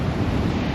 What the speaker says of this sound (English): it's a little rainy and windy this morning in Punta Cana